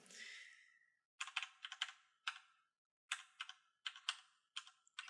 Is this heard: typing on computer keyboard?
yes